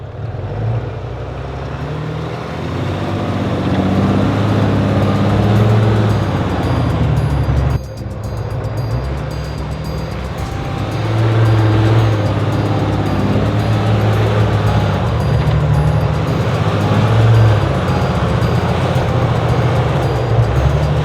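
A truck laboring up a steep, snowy driveway obstacle: a loud, steady engine drone close by, with a brief dip partway through before the revs swell again and hold, no talking.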